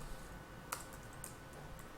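Computer keyboard typing, sparse light key clicks, one sharper tap among faint ones, quiet over a steady background hiss.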